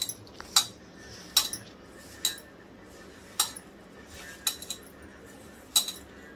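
Cabbage kofta mixture is stirred in a bowl, with a metal spoon clinking sharply against the rim about eight times at an uneven pace, close and fairly quiet, no talking.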